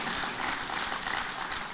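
An audience applauds Ivorian minister Sidi Thiemoko Touré at a forum, a dense, steady wash of clapping from a crowd that holds even throughout.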